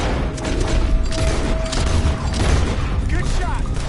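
Rapid gunfire crackles from a firefight in Red Dead Redemption 2, a dense loud fusillade of shots over a constant rumble, with a voice talking briefly over it.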